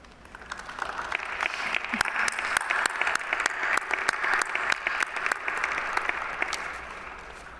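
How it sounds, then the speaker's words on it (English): Graduates and students at an athletics commencement ceremony applaud their supporters, a sustained, dense round of clapping from a large crowd filling the hall at steady volume. "give your supporters a round of applause"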